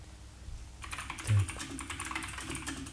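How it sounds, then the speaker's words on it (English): Rapid, intense clacking on a computer keyboard, a dense flurry of keystrokes that starts a moment in and continues at close range, with a soft thump partway through and no voices. "Intense keyboard smashing"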